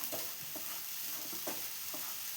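A jaggery and coconut mixture is stirred in a pan over low flame, giving quiet, rhythmic scraping strokes about every half second over a faint soft sizzle.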